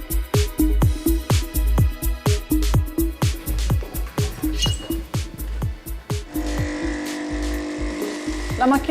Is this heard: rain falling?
no